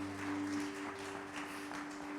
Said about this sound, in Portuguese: Dê uma forte salva de palmas ao Senhor.